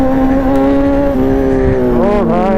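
Kawasaki Z1000 motorcycle engine running steadily and loud throughout, with a sustained harmonic drone that rises in pitch near the end as if revved.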